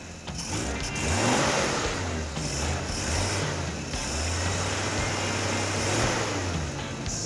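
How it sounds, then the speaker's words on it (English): An old AMC Pacer off-road car engine revs up and settles in a steady, rough mid-pitched drone, close by, with a couple of throttle blips and no talk over it. "it's idling down as it should. Will it take throttle?"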